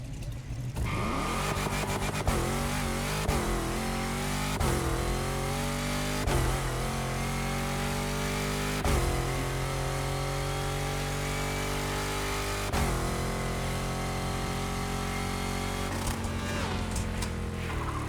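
A V8 High Riser swapped engine in The Crew Motorfest roars through repeated upshifts, each gear climbing in pitch before a brief drop, loud and close with no talking.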